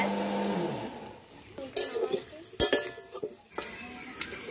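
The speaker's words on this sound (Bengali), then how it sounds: "আলুটা ভাজা হয়েছে, এবার তুলে নিচ্ছি।" Oil sizzles softly in a pan of frying potatoes with salt and turmeric while a spoon scrapes and clatters against it in short bursts, and a voice speaks briefly.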